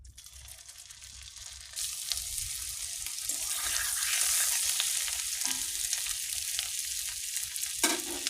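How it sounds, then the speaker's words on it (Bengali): Dhokla pieces frying in hot oil give a continuous sizzling hiss that swells louder after the first couple of seconds and holds steady and close, with no talking. "আচ্ছা, ঢোকলাগুলোকে ভেজে নেব"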